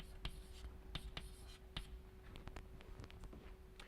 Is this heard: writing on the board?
yes